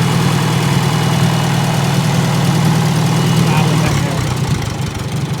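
A Super A tractor engine idles loud and steady with a deep rumble, then the tone shifts slightly near the end as the clutch is pushed and the gears start turning.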